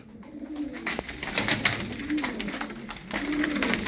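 Taklacı tumbler pigeons cooing close by, soft low coos repeating every second or so against light rustling and background noise, with no talk.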